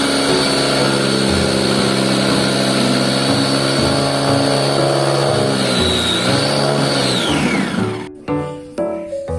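A blender whirs steadily at high speed mincing chili and garlic, a loud continuous motor drone with a rising whine that winds down and cuts off near the end, followed by a few light clatters.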